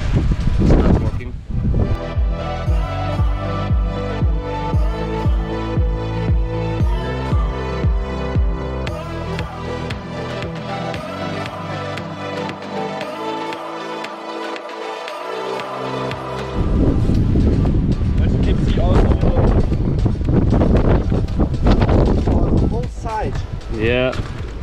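Strong mountain wind near Roys Peak, Wanaka, New Zealand, buffeting the microphone as a loud, continuous roar with deep low rumbles, steady for most of the clip and surging harder near the end.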